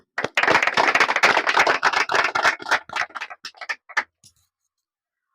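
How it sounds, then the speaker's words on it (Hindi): Audience at a school results ceremony for Bihar board matriculation students claps loudly for a first-place student, a dense burst of applause that thins into scattered claps and stops after about four seconds. "ताली हो।"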